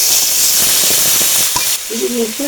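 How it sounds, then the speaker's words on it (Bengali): Turmeric, salt, ginger, cumin and dried and fresh chili paste sizzle loudly in hot oil for a fish curry, a bright continuous frying hiss that eases off before a short voice enters at the end. "শুকনা কাঁচা লঙ্কা বাটা সব কিছু একবারে দিয়ে দিবে, দিয়ে কষে দিবে"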